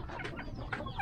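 Red junglefowl (labuyo) hens clucking in a backyard, a short burst of close, repeated clucks with no voices.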